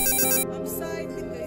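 A phone ringtone plays a bright electronic melody, loud and close, with its tone shifting partway through the short burst.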